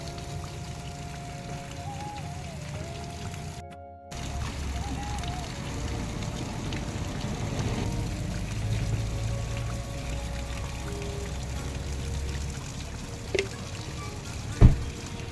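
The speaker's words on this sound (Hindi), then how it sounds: "यहाँ पे बहुत शीतल पानी का धारा भी है" Steady broadband rush of a cold mountain stream flowing near a scenic spot, continuous wash with a brief dropout near four seconds and a sharp knock near the end.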